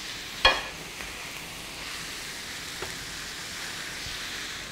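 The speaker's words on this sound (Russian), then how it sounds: "Наливаем масло. Здесь мы будем обжаривать свеклу." Beetroot and onion frying in oil for a large batch of borscht give a steady, even sizzle throughout, with one sharp clack near the start and a softer knock later on.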